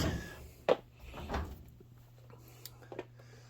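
Drawers in a garage workshop full of sorted motorcycle parts slide and knock shut: three or four short, close clunks spread over a few seconds above a steady low hum, with no talking.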